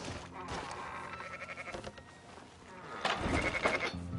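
Sheep bleat in a Red Dead game scene, a few wavering calls rising over a busy ambient game mix, with louder bursts toward the end.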